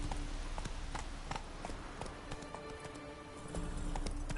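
Roach, Geralt's horse in the video game Witcher 3, galloping with a steady, quick clip-clop of hooves, fairly faint and close, with no talking.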